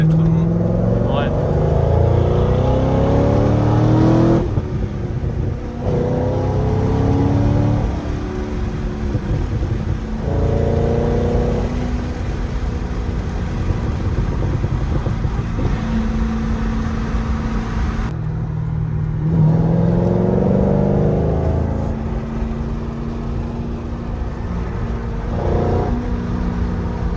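A Corvette Z06 engine on a charity rally drive swells through repeated acceleration runs, rising in pitch then dropping at gear changes, loud and close under a constant cabin roar.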